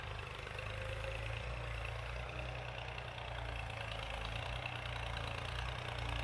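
A tractor engine idles and runs steadily while ground is being levelled outside a house front, a continuous low rumble with mild knocking that holds at an even level throughout, with no talk over it.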